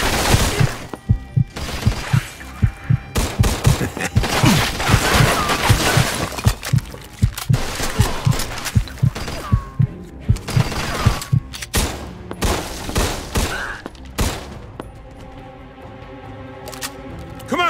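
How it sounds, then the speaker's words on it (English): Gunfire in the Mafia 2 Definitive Edition video game: a dense, loud fusillade of rapid shots and bursts running nearly throughout, with impacts and some shattering, close and continuous. "They shoot from up top!"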